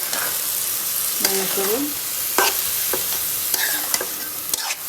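Bean seeds and potato pieces frying in a pan as they are stirred, with a continuous loud sizzle broken by scraping strokes of the spoon and a brief word of speech.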